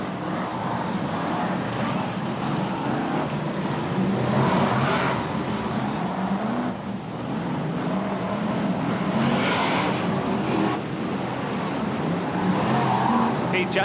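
BriSCA Formula 1 stock cars racing around the Scunthorpe raceway in 1992, a continuous roar of engines passing with brief tyre squeals, under an announcer's running commentary.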